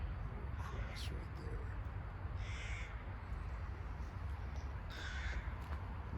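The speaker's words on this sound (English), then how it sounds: "Love the sounds of the crows." Crows caw a few times in the middle distance over steady broadband outdoor noise in a Vienna cemetery, with faint talking in the background.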